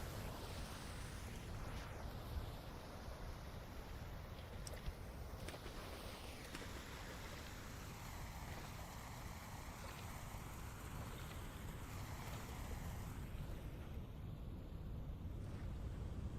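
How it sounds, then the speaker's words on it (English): A small waterfall flows in a steady, faint broadband rush heard from some distance, unbroken throughout and mixed with light wind noise, with no voices. "Cool little waterfall."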